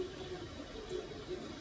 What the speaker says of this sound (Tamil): 2 டம்ளர் தண்ணி ஊற்றுறேன்.